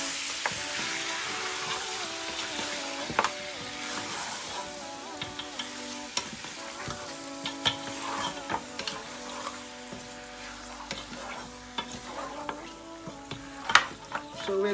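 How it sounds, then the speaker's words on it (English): Mutton sizzling in a grill pan as it is stirred, a continuous close fry hiss with intermittent scraping and clinking of the utensil against the pan. "we're going to stir the mutton until everything is nicely coated"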